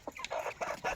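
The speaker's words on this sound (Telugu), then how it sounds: "పుంజు కూడా మంచి హెవీ సైజ్ పుంజు." A heavy-sized Eastern-breed rooster clucking, three or four short throaty clucks in quick succession, close and clear with no talk.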